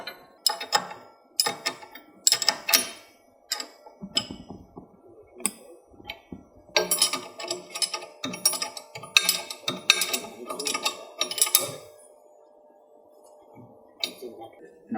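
Metallic clinks, ticks and clanks come from a 7/8 wrench tightening hydraulic valve fittings on a Schulte rock picker, irregular bursts close by with brief pauses.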